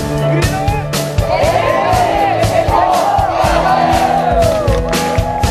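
Eco Scout university students on an ecological expedition near Dokdo shouting together in a loud, sustained crowd cry with rising whoops, heard close and unbroken with a narrator speaking over it.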